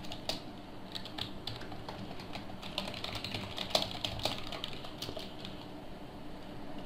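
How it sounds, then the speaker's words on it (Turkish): A password is typed on a computer keyboard, a steady run of light, quick key clicks with occasional sharper taps, close and fairly quiet against a soft background hum. "Şifreyi yazıyorum."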